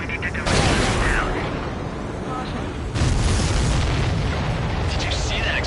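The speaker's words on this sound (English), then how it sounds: "Did you see that explosion? Looks like that's one of them down." An explosion from the Ace Combat 7 video game booms in two broad bursts, loud and rumbling across the whole range, with a sustained roar in between.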